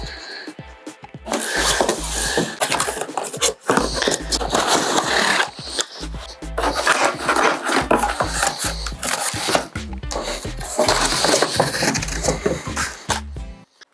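Cardboard and plastic packaging rustle, scrape and crinkle steadily as a TTG 8A610 cordless hedge trimmer is unpacked from its box, close and fairly loud, in sustained bursts with short pauses between them.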